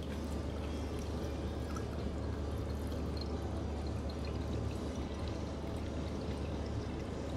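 Water being poured through a water filter during a flush, a dense, continuous rushing pour held at a steady level throughout, with no voices.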